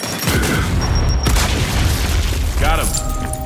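A frag grenade explodes during a Gears 5 Horde match, a heavy, loud boom with a rumbling tail, surrounded by game noise and voices talking.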